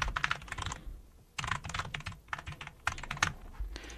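Quick bursts of clicky computer keyboard typing, close and fairly quiet, in three clusters separated by short pauses.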